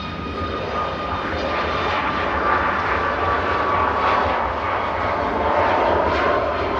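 A SmartLinks Malta Boeing 737 MAX 8 operated for TUI departs Manchester Airport, its jet engines roaring loudly and steadily throughout with a broad, rushing tone and no voices.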